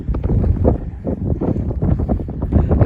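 Strong gusting wind buffets the microphone beside the Rathoa Haryam bridge at Mirpur in light drizzle, a loud, continuous rumbling roar with irregular surges and no talk.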